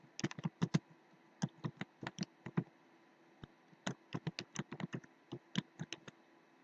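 Keys on a computer keyboard tapped out an email address in irregular quick bursts, close and fairly quiet, with short pauses between clusters of clicks and no talking.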